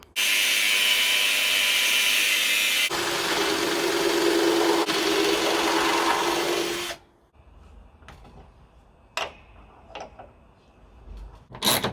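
A metal bench vice being cut with a slot makes a loud, harsh continuous cutting roar for about seven seconds, then stops, followed by quieter clanks and knocks of metal being handled.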